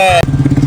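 A motorbike engine drones with a close, pulsing rumble through a very short moment, with a tonal sound cut off just before it.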